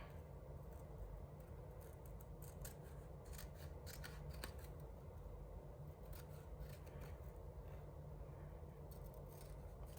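Scissors trimming paper on a 6x6 art journal spread, with soft continuous snipping and rubbing heard up close, quiet and steady with no talking.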